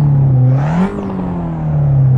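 A Fiat 500 Abarth engine in a Kunos racing video game revs up in a smooth rising whine, dips briefly, then settles into a steady, loud, close drone.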